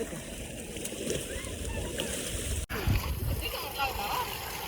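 Water from a farm motor pump sloshes and splashes continuously as people bathe in cold water, with a washy, noisy texture, a brief dropout midway, and a few thumps near the end.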